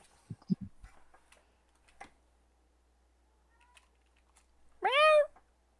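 A pet cat lets out one clear, rising-and-falling meow near the end, after some soft taps and muffled thumps in an otherwise quiet room.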